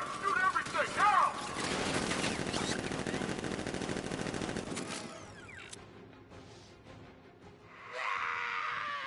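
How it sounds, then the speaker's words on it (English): Rapid automatic gunfire in a video game, a dense sustained burst of shots up close, then fading into scattered mechanical clicks and a later rushing noise, with no talk over it. "Open fire! Shoot everything!"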